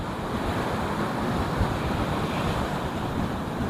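Steady sea surf and breeze at Bentota beach in Sri Lanka form a continuous, broadband roar of waves with wind buffeting the microphone, fairly loud and unbroken, with no talking.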